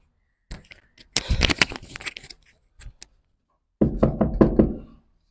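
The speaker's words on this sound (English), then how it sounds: "I'm going to play like I will knock now and tell them that I'm the room service" Knuckles rap on a hotel room door in two clusters of sharp, rapid knocks separated by a short pause, close and distinct.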